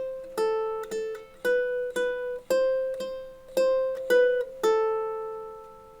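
Ukulele strummed in a steady rhythmic pattern, bright chord strokes ringing clearly and alone, with crisp accented strums repeating evenly.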